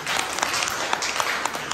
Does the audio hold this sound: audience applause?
yes